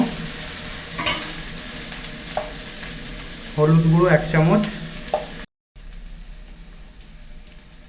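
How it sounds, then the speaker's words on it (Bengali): Ginger and garlic fry and get stirred in a pan for a rohu fish curry with cauliflower and potato, a steady close crackling sizzle with scraping stirs. A voice speaks briefly over it midway before a short break. "আদা রসুনটা ভালো করে ভাজা হয়ে গেছে"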